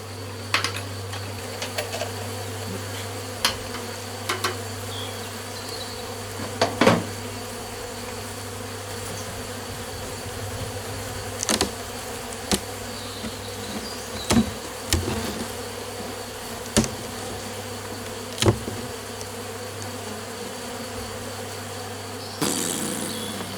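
Honeybees buzz steadily around hives in an apiary, a continuous close hum with scattered brief knocks and clicks from the hives, and no speech.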